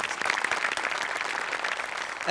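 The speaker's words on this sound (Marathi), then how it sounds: "एकदा जोरदार टाळ्या त्यांच्यासाठी सुद्धा" A studio audience on a comedy show gives a warm round of applause for the journalists present, the steady clapping sounding somewhat distant and soft.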